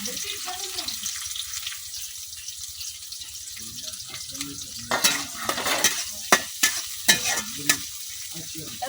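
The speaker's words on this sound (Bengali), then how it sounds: "আমি কড়াই তেল দিয়ে দিছি, এখন দিয়ে দিতেছি পেঁয়াজ" Onions frying in hot oil in a wok in a village kitchen, a soft steady sizzle that turns louder and busier partway through, with several sharp stirring scrapes near the end.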